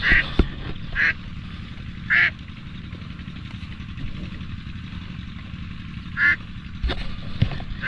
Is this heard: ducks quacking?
yes